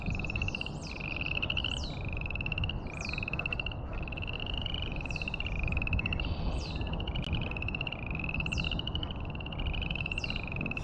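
A chorus of frogs croaks at Barr Lake in Colorado, with repeated rising calls pulsing steadily over a dense, constant low background hum, several animals overlapping at moderate distance.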